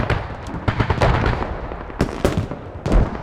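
Mortar shells landing on a cluster of players in a competitive video game squad match, a rapid series of loud booming blasts and cracks close together, with heavy impacts and rumbling between them.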